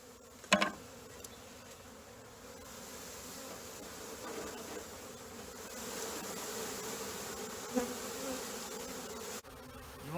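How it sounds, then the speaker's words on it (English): A mass of honey bees from a 2020 package installation, buzzing steadily while being dumped onto a queen cage, a dense close drone with a sharp knock near the start and another bump later. "You want to dump the bees right on top of the queen cage."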